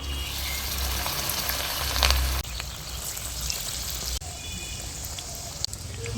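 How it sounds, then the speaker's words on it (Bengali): Chicken and cabbage pakoras drop into oil over lowered heat and fry with a soft, steady sizzle throughout, no voices. "এবার আমি আস্তে আস্তে পকোড়াগুলো ছেড়ে দেব"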